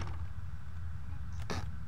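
A squeaky wooden floor creaks in the video game Penumbra: Overture, with one short, sharp creak standing out near the end over a low, steady ambient rumble.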